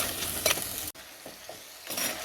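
Vegetables and brinjal sauté in oil in a pan on low flame, a steady close sizzle with a few stirring scrapes and a brief dropout midway.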